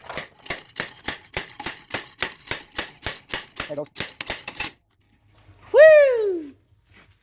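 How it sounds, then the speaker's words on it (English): A 5-pound slide hammer from Harbor Freight knocks out a Tri-Five Chevy rear axle during a rebuild, giving about twenty sharp, rapid metallic clanks in a steady rhythm, then silence and a loud whooping shout from a nearby person. "5-pound slide hammer from Harbor Freight"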